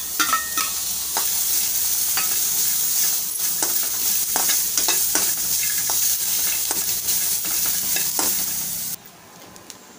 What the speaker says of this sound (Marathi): आपण जे ओल्या खोबऱ्याचे तुकडे घेतले तेही आपण थोडंसं परतवून घेऊया